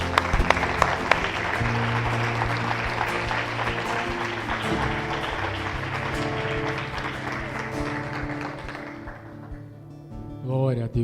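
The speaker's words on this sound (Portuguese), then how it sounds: "Vamos aplaudir o Senhor" A church congregation applauds during a worship service, with continuous clapping over sustained music and voices before the sound thins and drops away near the end.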